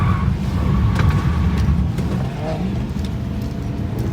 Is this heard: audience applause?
no